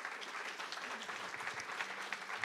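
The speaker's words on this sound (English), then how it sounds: "Okay, so an applause," Steady applause rises from an audience at a tech meetup on genomics. It is a short, dense patter of many hands, moderately quiet and unbroken, with no voices over it.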